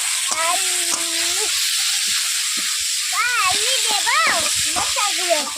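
Potato, eggplant and bitter gourd fry in spiced masala in a pan, a steady sizzle running underneath a voice talking throughout.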